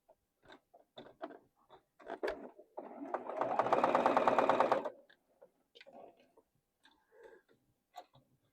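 A sewing machine stitches quilt pieces in one steady burst of fast, even needle chatter lasting about two seconds, with quiet handling clicks and rustles of fabric before and after.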